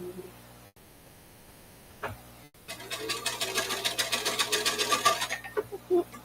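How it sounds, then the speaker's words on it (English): A sewing machine stitching fabric, starting after a brief pause and settling into a fast steady whirring chatter of needle strokes, close and prominent, with no voices. "I'll just sew it down anyway"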